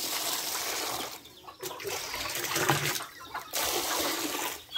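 Rainwater pours out of an emptied drum in splashing, gurgling bursts that pause briefly and resume, a moderately quiet outdoor trickle and splatter with no voices.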